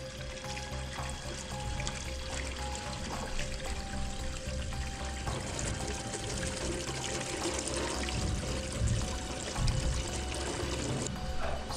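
Water rushing and filling a plumbing system during a leak test, a steady hissing, trickling flow with faint tonal whines from the pipes, continuous throughout.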